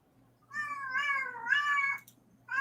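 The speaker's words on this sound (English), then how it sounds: "The loudest cat." A very loud cat gives a long, wavering meow lasting more than a second, then starts another cry right after a brief gap, close and alone.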